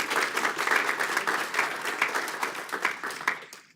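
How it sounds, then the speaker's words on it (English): An audience at an annual association meeting claps for an honoree, a short burst of dense, even applause from a modest indoor crowd that tapers off near the end. "So could we give Frank a hand of applause?"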